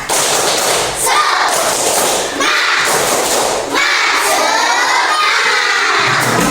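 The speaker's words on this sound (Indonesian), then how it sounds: "Kita tepuk semangat dulu ya." Indonesian schoolchildren in a classroom perform a 'tepuk semangat' clapping chant, loud rhythmic claps and thumps mixed with shouted voices, in bursts over several seconds.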